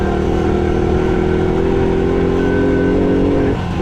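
A 1970 Honda ATC US90 three-wheeler, an original one-owner barn find, runs near its top speed with a loud, steady engine drone that holds an even pitch before easing off at the very end.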